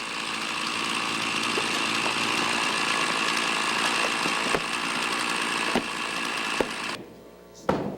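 Torrance Fire Department firefighters cut ventilation holes in a building during a training exercise: a power saw's steady, loud engine drone runs for several seconds with a few sharp knocks, then dips near the end before one more thud.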